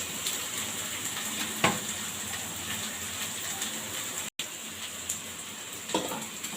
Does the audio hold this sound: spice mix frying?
yes